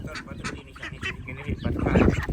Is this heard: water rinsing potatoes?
no